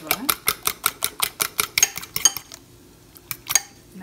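A utensil scrapes and taps rhythmically against a pan while tuna filling for roti is mixed, with about a dozen quick regular strokes and then a few sparser knocks.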